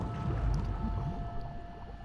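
A boat engine in the video game The Last of Us Part II drones with a low, rumbling chug, steady and moderately loud, over water sounds and a faint high tone.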